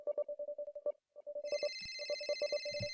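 A phone rings in a Star Trek-free dating game scene: a fast, repeating electronic trill pulses steadily, and a high sustained tone joins it halfway through, with no talking.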